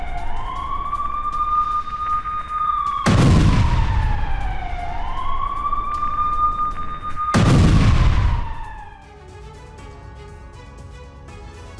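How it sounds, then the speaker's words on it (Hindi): Artillery fire in Khan Younis, Gaza: two deep, heavy booms several seconds apart, each rolling out, over a loud wailing siren that rises and falls continuously. "आर्टिलरी से अबू अकर बिल्डिंग पर अटैक हुआ है"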